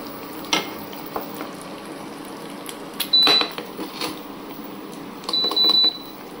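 An egg omelette cooks in a pan at home, giving a soft steady sizzle with occasional louder scrapes and clatters of a utensil, and no talking.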